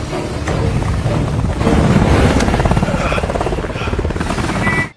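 A loud, steady helicopter drone with rapid rotor chop fills the whole clip, with a rushing, wind-like roar.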